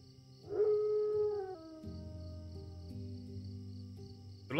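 A dog howls in the video game The Good Life, one sustained wavering howl at the start over a low drone and faint crickets, followed by a steady musical ambience.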